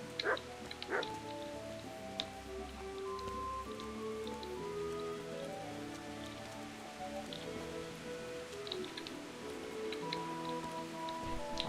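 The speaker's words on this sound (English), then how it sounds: "the good doggy" A dog in a medieval town in the Kingdom Come: Deliverance game gives a couple of short barks early on, set against a faint, steady rain-like patter and a soft tonal background.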